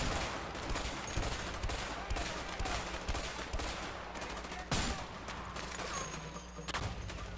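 Sustained gunfire rattles through a video game shootout in A Way Out, set in Mexico: dense overlapping bursts of rapid shots continue without pause, loud and close, with one sharper blast partway through and no talk.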